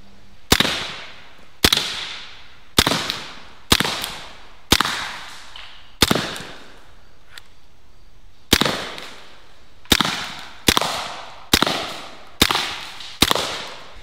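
A BinTac S45 Mini air rifle fires a dozen sharp, loud cracks, spaced unevenly about a second or more apart, each shot ending in a brief echoing tail. No one speaks.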